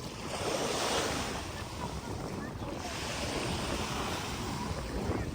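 Sea waves wash steadily onto a Dubai beach in a continuous rolling surge, with wind buffeting the microphone throughout.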